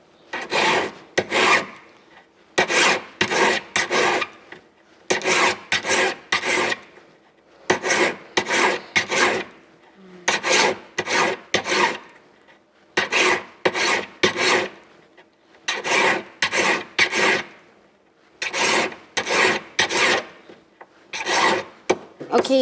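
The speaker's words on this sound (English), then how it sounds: "then you file your ring on the sides to make it even flatter and clean" A metal file rasps against the sides of a jewellery ring in repeated bursts of two or three quick strokes, separated by short pauses. The scraping is loud and close, with no voices.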